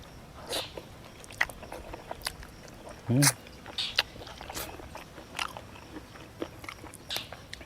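Chewing while eating chicken with rice noodles and fish curry sauce, several close, sharp crunching bites and smacking mouth sounds at irregular intervals, with a louder crunch near the middle.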